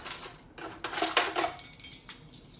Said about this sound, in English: Just giving that a little stir.